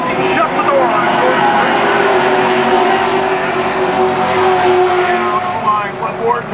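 Pro stock race cars at Canaan Speedway roar continuously around the oval, a loud steady engine drone with rising and falling revs as the field passes, joined by a commentator talking over it.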